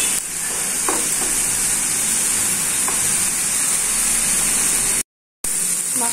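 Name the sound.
spices and coconut being stir-fried in a pan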